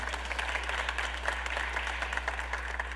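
Congregation applauding during a Sunday worship service in a church, a steady wash of many hands clapping at moderate distance with a low hum beneath, fairly faint and continuous.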